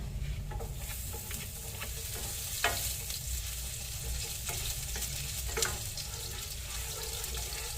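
Garlic and ginger sauté in a pan with a steady, moderately quiet sizzle and occasional scrapes of stirring, heard close with no talking.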